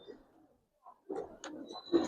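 Racer pigeons, giribaz silver-colored birds kept in a loft, give soft low coos in short bursts, with pauses between and a brief higher call near the end, close by.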